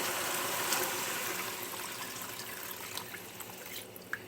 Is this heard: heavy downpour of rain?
no